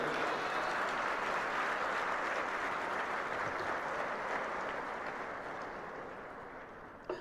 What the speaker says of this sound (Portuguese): Dê para Jesus uma forte salva de palmas, aleluia.